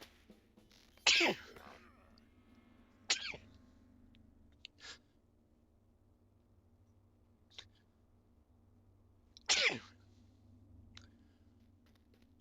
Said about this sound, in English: I just had another sneezing fit